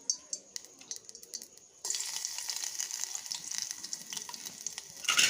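Tempering spices dropped into hot oil for a chana dal and carrot curry: a few faint crackles, then a sudden burst of loud, close sizzling that continues steadily to the end.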